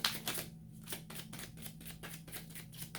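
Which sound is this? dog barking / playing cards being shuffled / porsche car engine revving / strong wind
playing cards being shuffled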